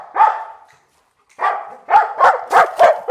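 A dog at a gun range barks in loud, close yelps, one early, then a quick run of four or five sharp barks after a pause, with a short spoken word between them.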